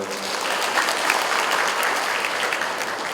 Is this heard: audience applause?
yes